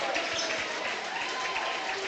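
A crowd applauds in a school gym at a girls' basketball tournament game, with dense steady clapping heard over a few seconds alongside crowd noise.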